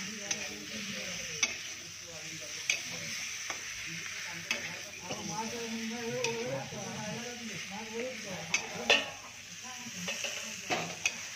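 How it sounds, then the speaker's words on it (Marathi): Fish pieces sauté with masala in a pan, giving a steady close sizzle. Spoon clinks and taps against the pan recur every second or two while a voice talks over the frying. "मासे व्यवस्थित परतून घ्यायचे, जेणेकरून मसाला सर्व पीसला चांगल्या प्रकारे लागेल."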